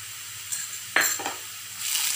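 Sliced onion frying with ginger garlic paste in a pan for keema, a short burst of sizzling with a spoon scraping and stirring against the pan in a few brief strokes, no voices.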